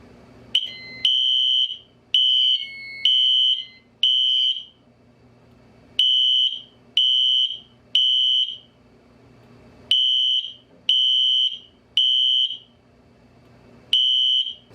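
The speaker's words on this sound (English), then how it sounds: "we will do a fire drill to end this video" A FireLite MS10UD fire alarm panel sounds a fire drill: loud, piercing electronic horn blasts in a steady temporal pattern of bursts with short gaps, repeating through the whole stretch.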